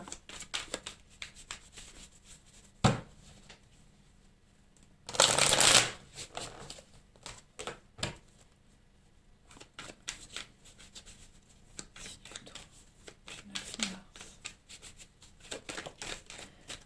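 Tarot cards being shuffled and drawn, with soft flicks and rustles, one loud burst of riffling midway, then scattered light card snaps and slides on a table, close and otherwise quiet.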